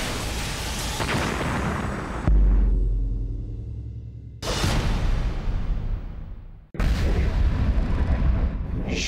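Missile strike explosions from the Russia–Ukraine war: three heavy, loud booms in sequence, each a sudden blast with deep low rumble that decays over a couple of seconds before the next hits, with roaring noise between.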